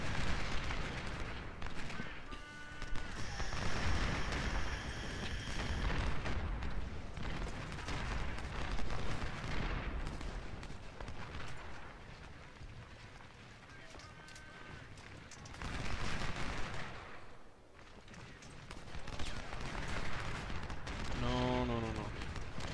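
Musket volleys and artillery fire in Ultimate General: Civil War, a dense, rumbling battle din of massed firing that swells and fades throughout, with a voice talking over it.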